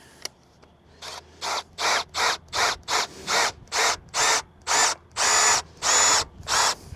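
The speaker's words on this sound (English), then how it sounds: "this drill bit's going to work out just fine with me, here we go." A power drill bores bolt holes in about a dozen short bursts, each a loud whirring grind through material, with brief pauses between, close by.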